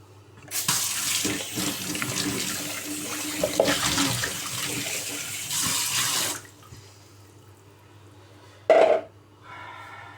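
A kitchen tap runs in a strong, hissing stream for about six seconds, then shuts off. After a pause, a brief second gush of water follows.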